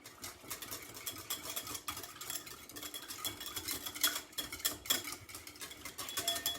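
Spoon stirring lemon juice into sautéed puffball mushroom and spinach in a pan on a switched-off stove, soft scraping and clinking strokes repeating unevenly, quiet and close, with no voices.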